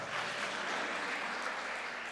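An audience clapping at a church teachers' workshop, a brief, even burst of many hands that stays steady and fairly full from start to finish.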